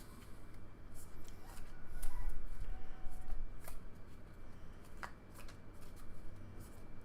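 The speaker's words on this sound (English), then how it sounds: "we have to draw some cards" Cards from a Space Marine Adventures: Doomsday Countdown board game deck are handled and shuffled with steady papery riffling and sliding, plus a few sharp snaps and flicks. The sound is close and continuous, with no talking.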